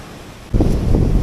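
Surf washing ashore on Marina Beach in Chennai, a broad rush of breaking waves that swells up halfway through and holds steady, with wind noise throughout.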